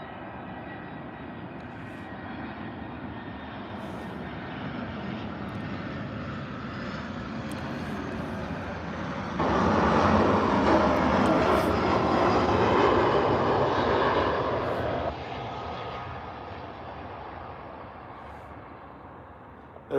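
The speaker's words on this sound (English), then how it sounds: "Not a bad landing there for the EasyJet, to be fair." An EasyJet airliner lands at Birmingham airport, its engine roar building steadily from a distant rumble to a loud, broad surge that holds for several seconds before dropping off sharply, with no talking.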